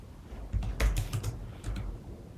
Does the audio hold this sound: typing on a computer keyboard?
yes